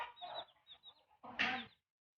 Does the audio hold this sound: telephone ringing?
no